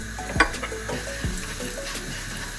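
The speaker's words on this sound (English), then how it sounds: "So I'm going to add 1 teaspoon of cumin seeds." A teaspoon of cumin seeds sizzles in heated oil, a steady close crackle with a metallic clink and a few stirring knocks.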